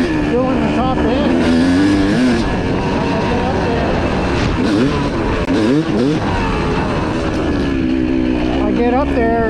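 A race vehicle engine revving hard on a dirt track at Prairie City, a loud continuous whine rising and falling with the throttle as the revs climb and flatten out, with a voice talking over it.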